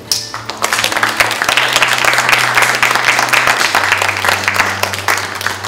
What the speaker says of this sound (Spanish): quisiera despedirlo con un fuerte aplauso a Hage.